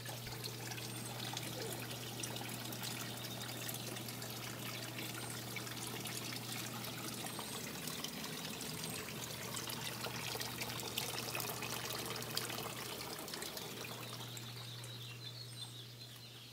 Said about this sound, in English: that was a hot tub